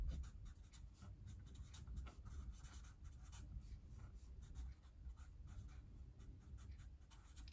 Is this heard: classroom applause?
no